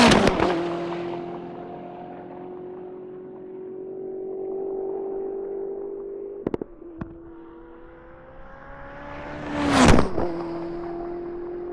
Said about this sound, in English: Now that's a single take of this car passing by these microphones